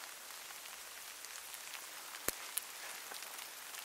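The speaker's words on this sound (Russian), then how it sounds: "Погода опять портится. Дождь, снег." Steady patter of wintry rain falling on a surface, soft and continuous, with a couple of sharp clicks midway; no voices.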